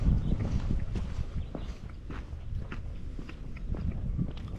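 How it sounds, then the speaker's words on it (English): Close, wet chewing of a mouthful of food, irregular soft bites and mouth sounds repeating steadily beside a quiet swimming pool, with no talking. "Excuse me while I'm chewing."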